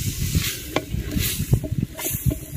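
Coarse chili powder being stirred into pieces frying in a hot pan, a steady close sizzle broken by repeated scraping stirs and clinks of a spoon against the pan.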